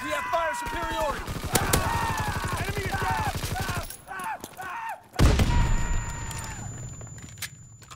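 Video game battle gunfire: a rapid automatic burst crackles under shouted voices, then a heavy boom lands about midway and leaves a rumbling tail with scattered shots.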